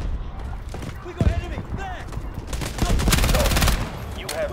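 SMG fire in a shooter game, rapid bursts of shots mixed with scattered impacts, growing denser toward the end while a voice talks over it.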